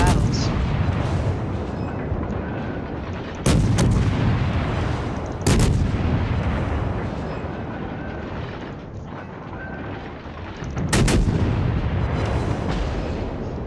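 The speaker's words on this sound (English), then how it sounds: "This guy should be dead next salvo." Warship main guns fire salvos in the naval combat game World of Warships, three loud, abrupt booms spaced several seconds apart over a constant roaring engine and sea bed, with someone talking over the battle.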